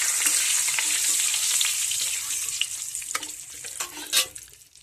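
Two bay leaves fry in melted butter with a bright, close sizzle that is loud at first and then thins into crackling pops toward the end.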